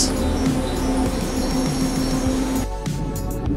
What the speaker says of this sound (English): And so, the train is here.